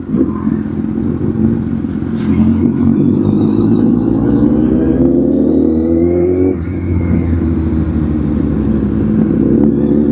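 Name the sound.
Kawasaki Z800 motorcycle engine riding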